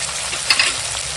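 Cumin seeds, bay leaf, chopped tomato, green chili and ginger paste fry in hot oil with a dense, steady sizzle, close and loud, with a faint stir midway.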